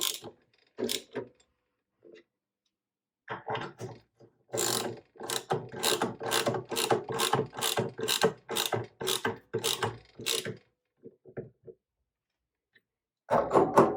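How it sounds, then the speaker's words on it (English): A ratchet tightens the motor mounts on a Dillon RL1100 reloading press with a Mark 7 Autodrive to tension the belt: a few scattered clicks, then a long run of quick, even, close pawl clicks, stopping, with one last burst at the end. "we're going to go ahead and start tightening up these motor mounts so that the belt has appropriate tension"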